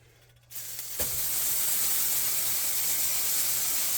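Hamburger patties dropped into a pan of browning butter, a quiet lead-in jumping to a loud, continuous close sizzle and hiss that holds steady to the end.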